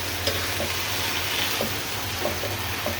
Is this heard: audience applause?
no